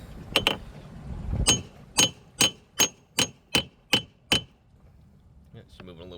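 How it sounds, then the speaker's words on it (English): A hammer tapping a failing Mercury boat steering actuator, with about nine sharp metallic clinks in an even rhythm, loud and close, followed by a brief rustle. "Since this actuator is bad, we can just give it a few love taps here."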